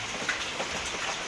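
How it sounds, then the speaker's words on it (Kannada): Evening rain falls outdoors as a steady, dense hiss of drops hitting surfaces, continuous and fairly close, with no voices. "ಇವಾಗ ಈವ್ನಿಂಗು ಜಾಸ್ತಿ ಮಳೆ ಬರ್ತೈತೆ, ಈವ್ನಿಂಗ್ ಟೈಮೇ"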